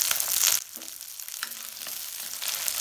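Onions and garlic cloves sautéing in oil, a sizzle that is louder at first, then quieter, with brief stirring scrapes along the way.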